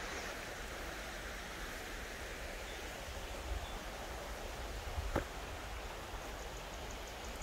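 Creek water flowing near an old mill, a steady broad rushing wash heard alone, with a couple of faint knocks.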